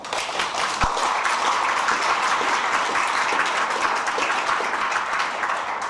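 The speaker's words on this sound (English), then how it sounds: "Please give yourself a round of applause" Sustained applause from an audience at a Chinese American civic gathering, many hands clapping steadily at close range for several seconds.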